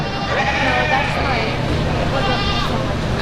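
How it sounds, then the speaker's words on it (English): Several goats bleat in a livestock show ring at a county show, repeated overlapping calls over steady crowd and arena murmur with people talking throughout. "That's all first place goats in the ring at this time."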